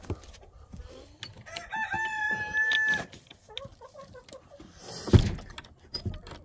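Backyard chickens cluck and a rooster crows on a sunny day, the crow rising clearly mid-clip over scattered nearby clucking, with a sharp knock or bang near the end.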